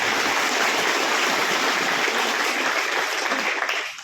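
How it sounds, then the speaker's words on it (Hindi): Loud, dense audience applause at an event where a police superintendent addresses people about quitting drugs, a steady roar of many hands clapping that fades slightly at the very end. "एक बहुत जोरदार ताली चाहूंगा आप लोगों से।"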